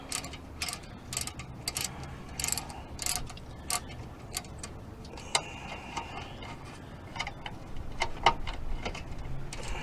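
A ratchet clicks in quick bursts as it loosens nuts on the rear spindle of a 1990–1993 Honda Accord, with close, uneven runs of sharp ticks and short pauses between strokes.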